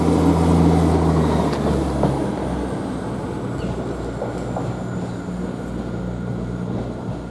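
Class 158 diesel train at Ely station bound for Norwich, a steady low rumble that is loudest at the start and eases slightly as it continues, with no voices.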